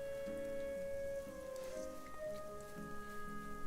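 Steady rain hisses through a video game dungeon, a soft constant patter sitting beneath sustained tonal game music, with no voices present.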